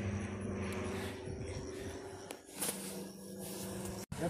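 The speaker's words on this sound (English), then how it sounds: "See that jet plane right there?" A jet plane passes overhead as a steady broad roar with a low drone, fairly distant and unbroken, ending in a brief sharp dropout.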